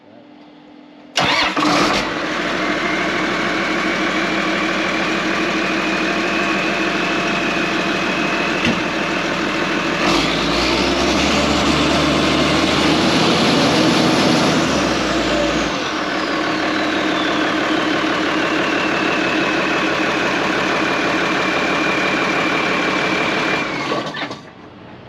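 A car engine cranks and starts after a repair, then idles steadily for over twenty seconds with a rise and fall in pitch midway, before it cuts off at the end.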